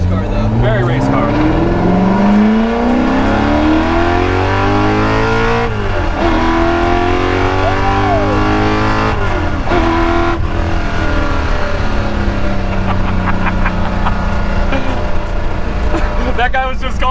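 A Ford GT40 revs hard while driving to about 7,500 RPM, the loud engine note climbing through repeated rising sweeps with sharp gear-change dips, heard close from inside the car with a voice talking over it.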